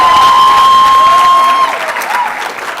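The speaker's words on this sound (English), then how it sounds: "I would like you to give yourselves a very big round of applause" Loud audience applause and cheering at a college public speaking competition, with a sustained high whistle-like tone over the clapping that then fades into scattered claps and crowd noise.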